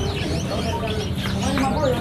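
Small birds chirp and tweet in an Indonesian bird shop stocked with caged birds, the calls steady and close amid busy shop noise and murmured voices.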